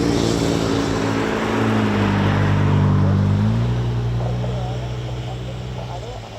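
A C-130 military transport turboprop at RAF Mildenhall roars loud and near, its propeller drone shifting in pitch as it passes, then easing off slightly toward the end.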